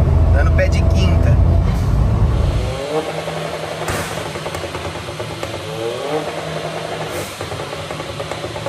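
A Volkswagen Up TSI with a stage 2 tune and a Golf GTI-style exhaust pulls hard in fifth gear, its loud engine drone filling the clip from inside the car and thinning after a few seconds, while someone talks over it.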